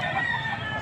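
Roosters crow and chickens cluck together at a busy chicken market, a dense layered chorus of fowl calls close by with no pauses.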